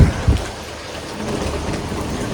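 Steady rain falling with a constant wash of hiss, and a couple of low thumps at the very start.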